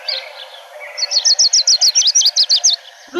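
A Lucy's warbler sings in Arizona: a loud, close, rapid series of about a dozen evenly spaced sharp chirping notes, heard alone without talk.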